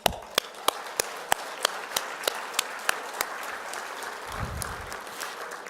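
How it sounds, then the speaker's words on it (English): Applause for award recipients at a union gathering opens with a few sharp, evenly spaced loud claps from one person, then thins into softer scattered clapping from the room with a brief low thump. "I just want to give all of you a round of applause"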